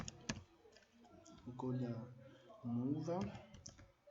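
A few sharp keyboard clicks come from typing a command into statistical software on a computer, mixed in with a person speaking.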